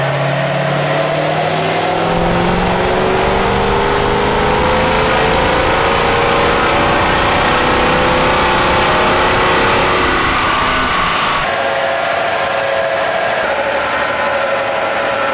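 A 6.0 Powerstroke diesel truck engine with about 300,000 miles roars steadily on a dyno, a loud sustained pull that climbs in pitch before easing off near the end, with no voices.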